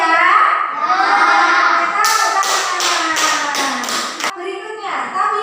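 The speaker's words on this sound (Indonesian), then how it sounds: "Tempelkan telapak tangan pada tanah atau debu yang suci, lalu tepukkan dan mengusap kedua tangan." A classroom of children patting their palms together and onto clean dust for tayamum, several quick soft pats in a row, with voices and room noise running underneath.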